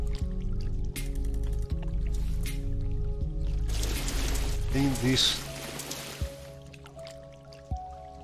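Water sloshing and dripping inside the flooded sewers of Morrowind, a few inches deep, with wet splashy squishes and drips under a steady game music bed while someone talks over it.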